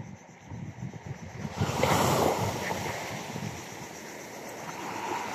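Strong ocean waves surge and wash with a windy rush, swelling louder partway through and then rolling on steadily.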